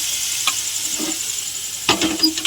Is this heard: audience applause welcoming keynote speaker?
no